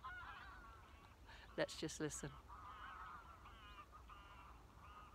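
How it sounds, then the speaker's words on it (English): Ducks call outdoors in a brief cluster of loud, honking quacks near the middle, set against a quiet open-air background while a voice talks softly around them. "can you hear the ducks?"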